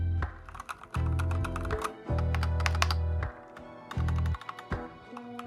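Typing on an Epomaker Ajazz mechanical keyboard: quick, close clacky keystrokes in bursts, with heavier thocks from the spacebar or larger keys at intervals, and no talking.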